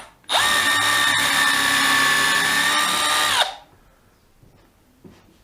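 Power drill countersinking a decking board for a trough planter, one loud close high whine lasting about three seconds with a steady pitch that sags slightly before stopping, followed by faint handling noises.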